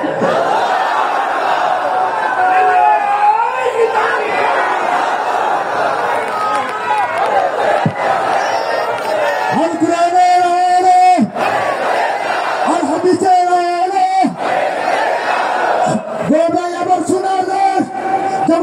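A large crowd at an outdoor Islamic religious gathering roars a takbir together in several loud, sustained collective shouts, rising in waves over a leader's amplified voice.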